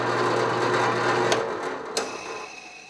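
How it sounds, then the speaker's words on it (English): A power drill fitted with a countersink bit bores into the rough edge of a hole in a router table upgrade, giving a steady close whirring grind for about a second and a half before it stops, followed by a couple of sharp clicks. "I went in and chucked in a countersink, and I just want to countersink this a little, get the rough edge"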